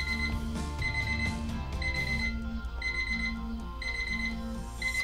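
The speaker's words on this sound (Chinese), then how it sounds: "不，相信我，只有闹钟" Alarm clock rings in repeated bright electronic beeping bursts, a steady regular pattern over a busy musical backing, with no talking.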